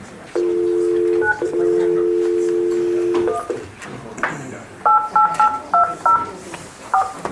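Touch-tone keypad dialing on a telephone joining a conference call: a long steady tone, then a quick burst of several short dual-tone key beeps in an irregular rhythm, close and clear, with faint room noise between.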